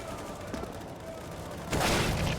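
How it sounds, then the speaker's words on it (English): AWP sniper shot through a wall in Counter-Strike on the Vertigo map during a pro match, a sharp loud crack bursting in near the end after a stretch of quieter game noise and gunfire. "Oh, nice wall bang."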